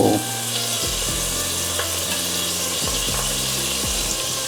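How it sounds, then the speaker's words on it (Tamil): Chicken curry ingredients, including onions, sizzle and fry steadily in a hot pan, with occasional stirring scrapes over the continuous close crackle and no talk. "லைட்டாக வதக்க போகிறோம், மூடி வச்சுக்க போகிறோம்."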